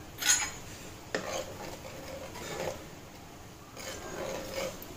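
A spoon clinks and scrapes against a pot while milk with raisins and chopped cashews is stirred for bread rasmalai. The sounds are quiet and sparse, with a few sharper taps over a soft background.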